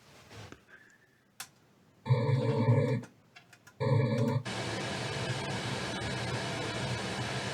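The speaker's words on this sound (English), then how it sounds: "this is pink noise coming into the mic" Pink noise is played into a microphone during a test of how facemasks affect speech: a steady, even broadband hiss holds for the last three seconds, after a few short tonal bursts and clicks.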